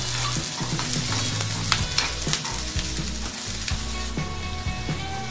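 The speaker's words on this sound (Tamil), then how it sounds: "வெங்காயம் நல்லா வதங்குற அளவுக்கு நம்ம வதக்கி எடுத்துக்கிறோம்" Onions sizzle in a hot pan as they are stirred, with a spatula scraping and clinking against the metal, close and continuous.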